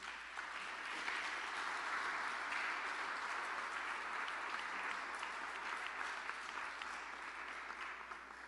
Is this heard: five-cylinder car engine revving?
no